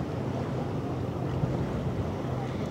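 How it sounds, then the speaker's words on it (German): At Hamburg harbour a strong wind roars steadily into the microphone, a dense low rumbling buffet that stays loud and unbroken throughout with no voices. "Ihr merkt, wir haben ordentlich Wind auf der Hütte."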